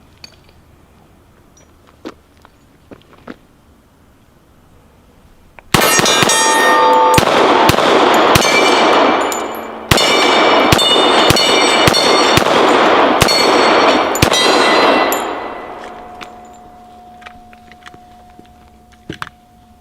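Glock 21 Gen 4 pistol emptying a magazine of .45 ACP rounds, a rapid string of loud, sharp shots over about nine seconds, with one brief pause partway through.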